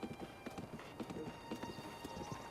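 Horse hooves clip-clop in a steady rhythm while riding in Zelda: Breath of the Wild, fairly quiet and even, with faint background ambience and no talking.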